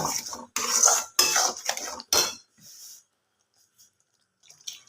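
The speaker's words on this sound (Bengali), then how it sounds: "অনেকক্ষণ ধরে এটাকে কষে নিয়েছি" A utensil scrapes and stirs egg curry masala in a pan, making several short, fairly loud metallic scraping bursts, then quieter faint taps before near silence.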